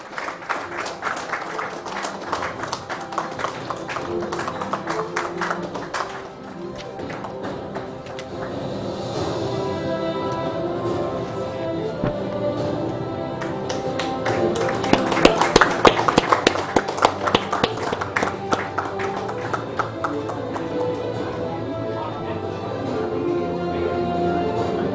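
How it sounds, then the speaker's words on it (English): An audience at a corporate award ceremony claps in sustained, dense applause that swells to a louder peak midway before settling into steady clapping. "I'll request a huge round of applause"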